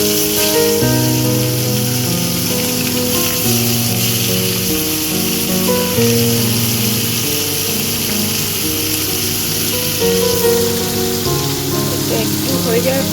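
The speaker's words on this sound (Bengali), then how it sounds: "তেল গরম হয়ে গেছে, এরপর আমি মাছগুলো ছেড়ে দিচ্ছি।" Small morola fish drop into hot oil and fry with a loud, steady sizzle that runs continuously under background music.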